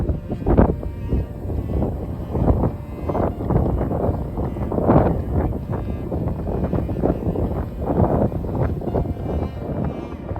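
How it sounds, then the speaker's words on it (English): Strong, cold gusts buffet the microphone on a hilltop walking trail in Pensacola, Florida, a loud rumbling roar that surges and fades in waves throughout, with no voices. "Very windy today and cold in the 40s."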